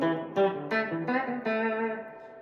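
Telecaster electric guitar played with heavy reverb in a 1960s country style, a few clear plucked notes and short chords each ringing out in a long washy tail, close and alone with no talking.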